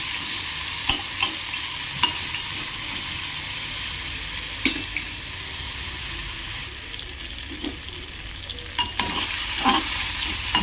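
Tomato cooking down in a pan for cucumber chutney, a steady close sizzle of frying broken by repeated clinks and scrapes of a spoon stirring.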